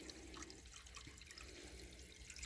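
Saltwater poured into a hermit crab pool, a steady, faint splashing trickle running continuously throughout, with no talking.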